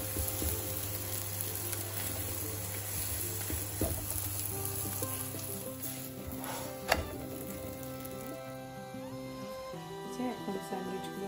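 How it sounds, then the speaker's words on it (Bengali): Potatoes frying in a pan for a home breakfast, giving a steady low sizzle with faint stirring clicks and a sharp clink near the middle, under background music and kitchen hum. "এই যে আলু ভাজি হচ্ছে"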